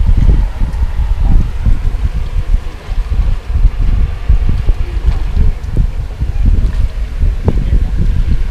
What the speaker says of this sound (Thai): ลมแรงแล้วลมชักแรงครับ